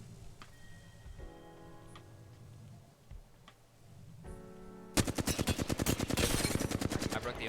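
Rapid bursts of automatic gunfire from a firefight in Apex Legends, starting after a stretch of quieter game ambience with faint clicks and tones, then a loud, dense rattling volley that continues steadily to the end.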